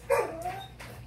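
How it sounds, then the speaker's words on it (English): Dogs heard indoors near guinea pigs in a cage, giving a single short bark or yip followed by a faint whine, moderately distant and quiet against a low room hum. "that was my mom's dogs"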